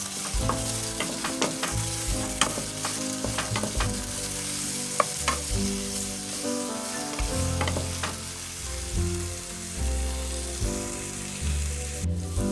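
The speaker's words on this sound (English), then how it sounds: "I'm going to add our 2 tablespoons of minced garlic. And we're going to saute that for about 1 to 2 minutes." Two tablespoons of minced garlic sautéing in a pan for baked spaghetti, a continuous sizzle with scattered utensil clicks and stirs, mixed with steady background music, close and without talk.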